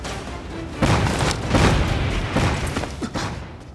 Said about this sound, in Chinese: 这是什么声音啊？ 是爆炸声。